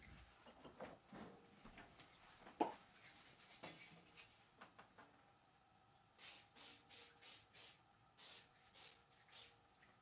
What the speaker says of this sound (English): We probably need some kind of spray or something.